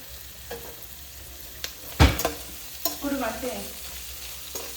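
Garlic frying in a pan with onions for mango rice, stirred with a few scraping clatters and a sharp utensil knock in the middle, light sizzle underneath, close and moderately quiet.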